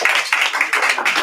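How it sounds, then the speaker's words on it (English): A brief round of applause from an audience at the close of a presentation gathering, heard as quick, bright bursts of hand clapping close by, lasting about a second. "let's give a round of applause to everyone."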